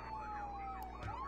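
A wailing police car siren rises and falls steadily at moderate distance, with faint background noise and a brief knock near the end.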